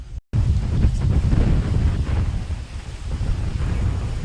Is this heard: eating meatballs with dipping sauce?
no